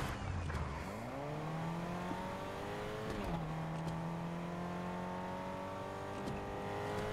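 Video game car engine revving, pitch climbing through the gears and dropping at shifts, a steady synthetic whine with a brief tire-squeal accent.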